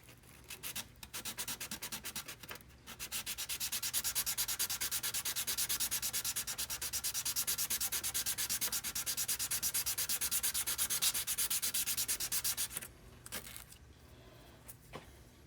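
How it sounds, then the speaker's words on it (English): Close, rapid back-and-forth scraping of sandpaper on a Graph Tech Tusq XL guitar nut for a Fender Stratocaster runs for about ten seconds, then stops, with no one speaking. "I will just sand it down"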